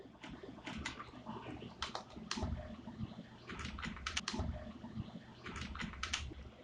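Fingers typing text on a computer keyboard in quick bursts of close, crisp key clicks, with brief pauses between the flurries and no talking.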